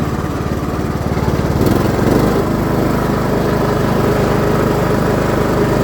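A Craftsman LT2000 riding mower drives along with its engine running loud and steady nearby, a continuous rough drone throughout with no talking.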